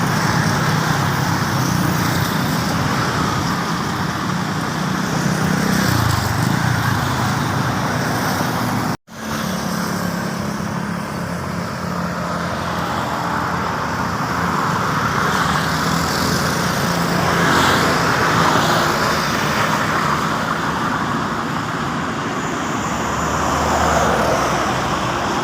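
Steady road traffic merging on a bypass road under widening to four lanes in Bankal, Davao City, with cars and trucks passing in a continuous broadband roar, fairly close and loud, with a brief dropout partway through.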